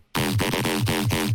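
A synth sound built in Serum within Ableton plays a bright, buzzy, harmonically rich tone in several rhythmic pulses, each with a punchy low attack and a slight pitch drop. It is loud and close, with no voices.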